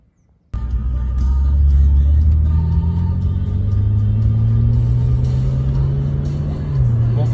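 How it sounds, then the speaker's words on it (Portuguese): BMW 130i 2009 two-door hatchback with a steady engine drone and low road rumble from inside the cabin while driving, the engine note rising gradually, with no talk over it. "estamos andando aqui com a BMW 130i 2009, 2 portas"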